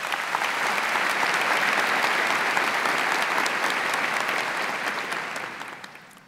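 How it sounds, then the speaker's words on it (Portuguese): Audience at a jubilee thanksgiving Mass gives a sustained round of applause, dense and steady for several seconds before tapering off at the end. "com uma salva de palmas"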